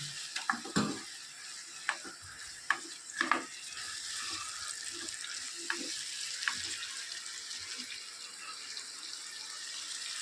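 Onion, garlic and crushed tomatoes fry in a pan with a soft, steady sizzle. A few clinks and stirring knocks sound near the start, then the frying continues quietly and evenly, with no talking.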